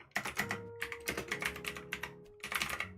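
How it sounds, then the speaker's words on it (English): Rapid clacking of a computer keyboard, keys struck in uneven bursts with brief pauses, close and fairly loud with no talking. "get ready for just typing noises for a second"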